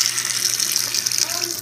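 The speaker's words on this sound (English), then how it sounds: "we've been taking the potato slices out of the salt and vinegar mix and rinsing them with some water" Running tap water rinses potato slices taken from a salt and vinegar soak, a steady close hiss of flowing water that continues throughout.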